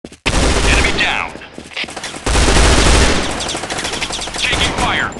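Gunfire in the video game Point Blank, loud, dense bursts of automatic shots and rapid fusillades running almost continuously, with radio-style voice callouts over the shooting.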